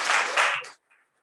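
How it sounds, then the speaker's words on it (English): A short burst of applause at a school district board meeting, dense clapping that quickly tapers off into near silence. "Go ahead, applaud yourself."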